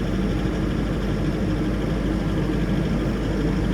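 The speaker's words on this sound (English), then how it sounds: "It might be a little bit hard to hear with the engine on" A Chinese mini excavator's diesel engine warming up at idle on a cold day: a steady, loud, low rumbling drone that holds evenly throughout with no talk.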